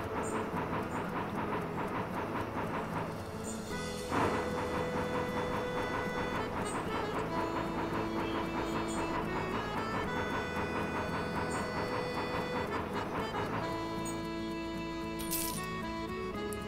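A train runs along the rails in the Bounty Train video game, a steady rolling rumble with a rhythmic clatter and mechanical tones, continuous and moderately loud, with no voices.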